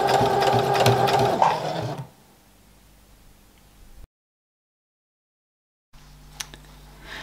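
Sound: sewing machine stitching final edge of apron

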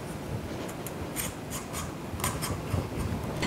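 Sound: vegetable peeler peeling butternut squash skin

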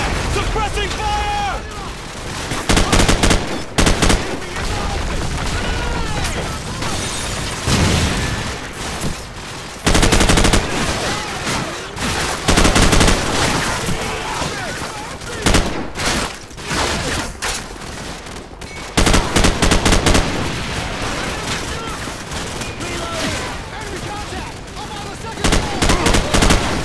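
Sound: suppressing gunfire

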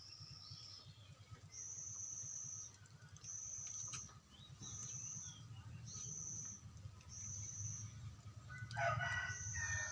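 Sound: rooster crowing

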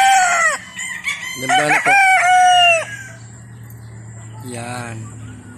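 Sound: roosters crowing at a gamefarm

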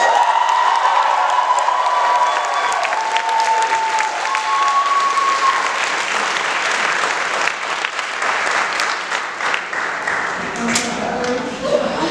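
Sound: applause for co-chairs

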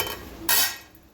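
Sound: lid taken off a cooking pot

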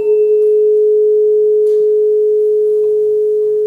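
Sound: superposition of two pure tones

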